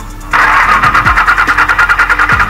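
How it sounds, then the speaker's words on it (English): A diesel engine with the Stanadyne fuel pump's stop coil removed cranks loudly and steadily on the starter, with a rhythmic, pulsing churn that continues without catching to a run. "We will try to start the engine with the coil removed."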